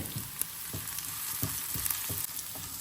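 Onions frying in hot oil with dried chillies and mustard seeds for paal kappa make a close, steady sizzle, with rhythmic stirring scrapes about every third of a second and no talk.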